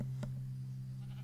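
A single short sheep bleat from the Minecraft video game, faint and brief over a steady low background hum, with no talking.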